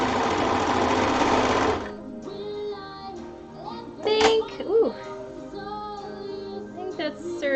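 A serger stitches fabric in a fast, loud mechanical burst lasting about two seconds, then stops while a person talks.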